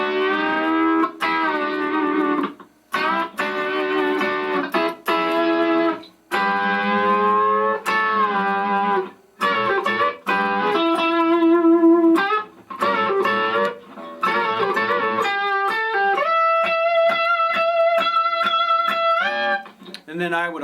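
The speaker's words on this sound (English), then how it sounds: "Let me throw some distortion on here so you can hear what it sounds like with a little bit of grit to it." Distorted electric guitar plays classic country licks, with gritty, bending phrases, rapid runs and short pauses, loud and close with no talking.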